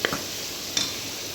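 Onions with salt frying in a pan for sweet corn rice, a soft continuous sizzle with a brief stirring scrape near the start and another near the end, up close and without speech.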